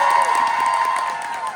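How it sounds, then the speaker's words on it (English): Festival audience at a film panel applauding and cheering, a steady dense wash of clapping and shouts sustained at full level, fading only slightly toward the end. "just let's give them one more round of applause"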